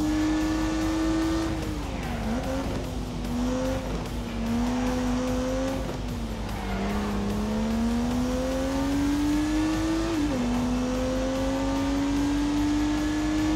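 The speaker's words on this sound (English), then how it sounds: "unleashed 365 rampaging horsepowers from the turbocharged 3-litre straight 6" In a racing game, a turbocharged 3-litre straight-six with 365 horsepower drones loudly and continuously, its pitch climbing through gears with brief dips at each shift, while tires squeal faintly underneath.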